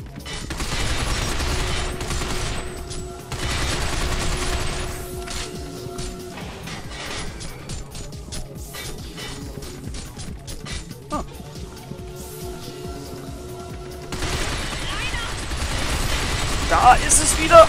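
Bursts of gunfire and explosions fill a Binary Domain shootout, dense rattling volleys broken by sharp impacts and mechanical clanks, with a voice talking over the fighting.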